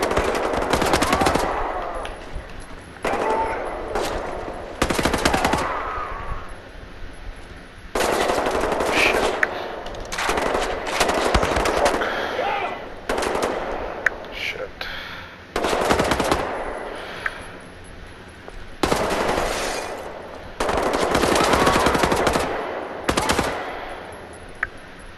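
Bursts of machine gun fire from the video game Wolfenstein The New Order rattle in repeated loud volleys, separated by short pauses, with faint game sounds between.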